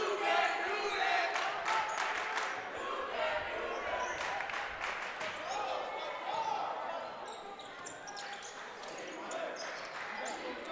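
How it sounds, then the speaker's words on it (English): A high school basketball playoff crowd chants in unison inside a gym, the rhythmic voices rising over constant crowd noise and squeaky court sounds, with commentators talking over it. "I give the crowd chant there a B-"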